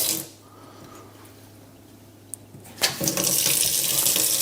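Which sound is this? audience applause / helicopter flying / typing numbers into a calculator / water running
water running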